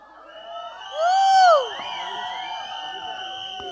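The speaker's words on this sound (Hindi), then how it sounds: "आप लोग तो इतनी तालियां और शोर मचा रहे हैं" A live audience at a comedy trailer launch cheers and whoops, a rising whistle-like shriek swelling for a moment before settling back into a steady crowd murmur with voices mixed in.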